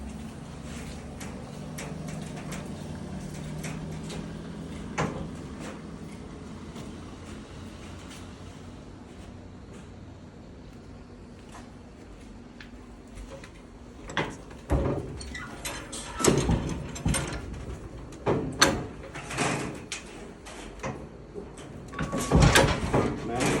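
Sheet metal being slid into a bending brake while an auxiliary HVAC drain pan is fabricated: repeated metallic scrapes, clanks and knocks, growing louder and busier toward the end, close by, with no voices.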